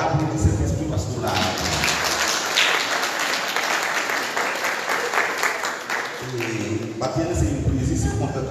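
A church congregation at Sunday worship claps and cheers in a long, loud, sustained burst of applause, with voices and music mixed in throughout.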